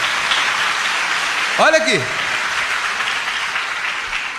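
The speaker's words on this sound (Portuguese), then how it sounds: "dá uma salva de palmas para Jesus" Applause from a church congregation fills the background as a steady crowd wash, while someone speaks briefly over it partway through.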